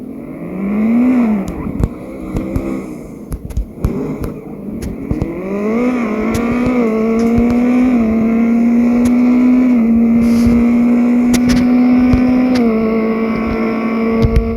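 A gasser hot rod engine revs up loud and close under throttle, its pitch climbing and holding in a steady, rising drone with brief blips early on.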